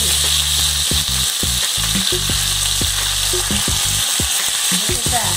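Salmon fillets and smashed potatoes fry in a hot pan with a steady, loud sizzle, punctuated by scattered sharp crackles and pops, close up and without voices.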